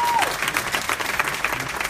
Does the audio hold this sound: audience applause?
yes